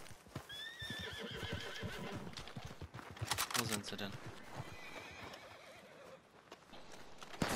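Horses in Red Dead Online clop and neigh close by, a loud whinny rising and falling through the middle while hooves patter underneath, with someone talking over them throughout.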